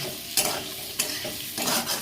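Onions frying in a wok, a close, bright sizzle broken by three sharp stirring scrapes of a spatula against the pan.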